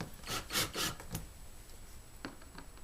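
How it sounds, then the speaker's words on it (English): A 5/16 nut driver loosening screws on a Lowrey organ rolltop, a few close scraping, rasping twists in quick succession, then a pause and two lighter scrapes. "I'm just going to go down and loosen the bottom 5 screws about halfway out."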